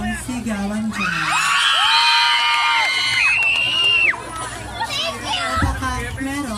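A crowd at a Miss Gay beauty pageant in Cabanatuan, Nueva Ecija, shrieks, whoops and cheers loudly in high excited voices, with overlapping yells and a shout over the commotion.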